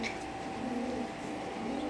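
Native pigeons kept in pairs at a pigeon farm give low, soft cooing murmurs over a steady hum, faint and continuous for a couple of seconds.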